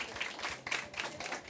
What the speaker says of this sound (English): Rupa, big applause for Rupa and her team,